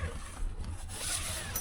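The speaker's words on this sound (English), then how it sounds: "If I can find the zipper," Zipper on the moonroof of a rooftop tent being pulled open, a brief soft rasping run against fabric with rubbing noise, close and fairly quiet.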